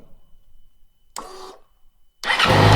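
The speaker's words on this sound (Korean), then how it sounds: "자 시동 한번 걸어봅시다 스위치 온" A Yamaha YZF-R6 sport motorcycle fitted with a fresh lithium iron phosphate battery: a short electric whir of the starter, a pause, then the engine catches and settles into a loud, close idle.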